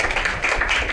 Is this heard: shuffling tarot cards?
no